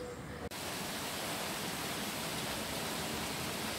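Steady heavy rain pours outdoors after a long dry spell, a dense, continuous hiss that swells in abruptly after a brief quieter moment at the start and then holds loud and even with no voices.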